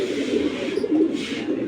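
A close, throaty coo from a Sapchila Makra pigeon, a high-flying Giribaz breed, comes in two or three rolling phrases that are loud and clear with no voices over them.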